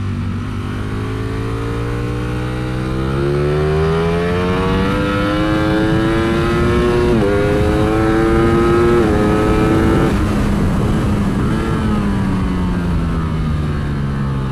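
A Ducati Streetfighter V4S motorcycle at full throttle on a race track, its loud engine wailing and climbing through the revs with brief shifts and drops, close and continuous for the whole stretch.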